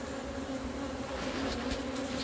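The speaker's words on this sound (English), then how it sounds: "There's enough bees right here to start another hive almost" Honeybees hum in a dense, steady swarm at an open hive during an inspection, close and continuous with no voices.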